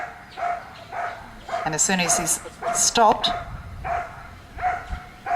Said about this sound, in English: Indy's in there doing the bark and hold again.